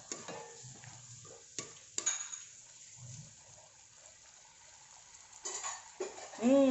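Baby squid with green chili cooking in a pan, with faint sizzling and stirring scrapes, a few utensil knocks on the pan and a brief bubbling burst near the end.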